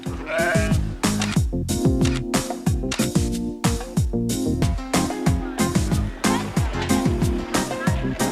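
Several sheep bleat loudly and repeatedly by a river, their wavering cries overlapping in a dense, continuous chorus close by.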